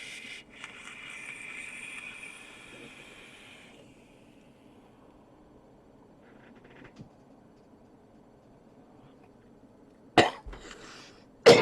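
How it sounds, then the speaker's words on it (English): A vaper using a parallel 21700 mech mod lets out two sharp, close coughs at the very end, after a soft hiss at the start and a long quiet stretch. "Can't help but the cough at the end"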